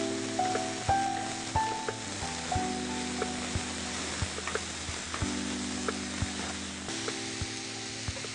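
Mushrooms dry-frying in a pan without water for Chettinad mushroom masala, a steady soft sizzle with occasional utensil clicks and stirring scrapes running throughout, close and moderately quiet.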